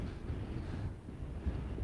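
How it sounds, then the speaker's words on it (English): Outdoor wind buffets the microphone in a low, steady roar that swells and dips slightly over the brief stretch, with no voices heard. "It's very windy around this spot"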